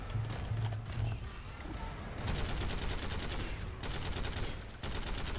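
Rapid automatic gunfire from a turret in the shooter game SYNTHETIK, bursts of dense clattering shots continuing through the clip alongside other game sounds, no speech.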